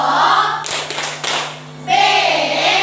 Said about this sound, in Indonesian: tepuk TOPBGT dulu untuk mereka berempat